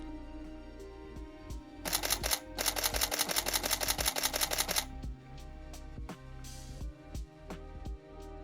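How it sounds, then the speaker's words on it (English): Canon 5D Mark III shutter firing in high speed continuous mode at 6 frames per second, a rapid even burst of about three seconds of sharp mechanical clicks, close and loud, between a few single clicks. "High speed continuous at 6 frames per second."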